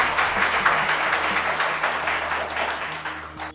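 An audience at a Ramayana quiz competition breaks into applause for a correct answer, a dense sustained patter of clapping that slowly thins toward the end.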